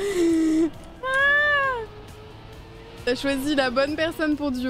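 A house cat meows indoors, a drawn-out cry followed by a second rising-falling meow, close and clear, then a person talks over the end.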